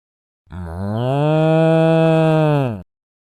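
A single cow moo sound effect, loud and close: one long sustained bovine call of about two seconds that rises at the start, holds steady, then stops abruptly with silence around it.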